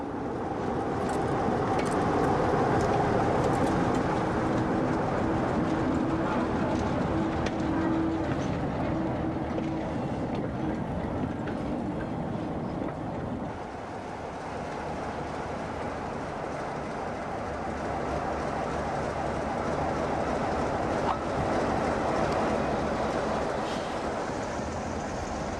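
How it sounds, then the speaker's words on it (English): A Brush Type 2 diesel locomotive pulls a parcels train out along the former Metropolitan and Great Central Joint Line, a continuous rumbling roar with rail noise, fading slightly midway, heard from trackside on an old recording. "A brush Type 2 departs on the parcels bound for Aylesbury"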